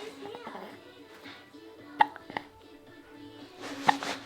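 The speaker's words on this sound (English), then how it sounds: "Got the hiccups." A small child hiccups a couple of times in a quiet home room, with short sharp bursts near 2 and 4 seconds over a low background from a television.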